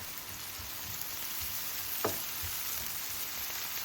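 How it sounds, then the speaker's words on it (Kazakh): Chopped onion fries in hot vegetable oil in a pan while borscht is being made, giving a soft continuous sizzle with one brief stir or scrape partway through. "Қызып тұрған сұйық майымызға картоптан басқа көкөністеріміздің бәрін қуырып аламыз."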